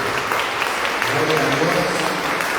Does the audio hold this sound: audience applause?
yes